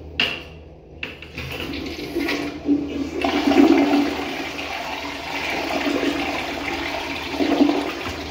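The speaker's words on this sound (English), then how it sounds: "That was interesting for a flush." A circa 2016 American Standard Sonoma toilet with an unusual flush: a sudden loud whoosh, then a sustained rushing and gurgling swirl as the bowl drains and refills, close and alone.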